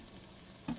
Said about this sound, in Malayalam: ഇവനെ കരിഞ്ഞു പോകാതെ നല്ലതായിട്ടൊന്ന് വഴറ്റിയെടുക്കണം.